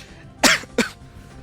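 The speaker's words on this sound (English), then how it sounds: "Sorry for the coughing." Two quick, sharp coughs close to the microphone, one right after the other, followed by quiet.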